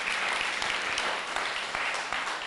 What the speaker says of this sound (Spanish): Usted podría darle un aplauso al Señor.